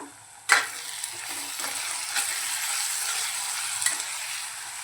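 Spicy dhaba-style chicken keema fries in released oil with a steady bright sizzle, broken by several soft scraping stirs of a spoon through the mince, close and without talk.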